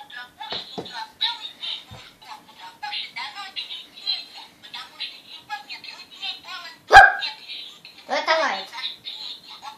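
A pet dog in a home setting, where the owner coaxes the dog into "reciting a poem", barks and yips in short bursts, one sharp loud bark near the middle, mixed with ongoing talk and high squeaky vocalizing.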